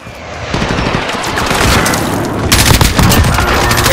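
Air strike explosions in the Call of Duty: Modern Warfare video game, a loud continuous barrage of rumbling booms and crackling blasts that builds through the run and thickens toward the end.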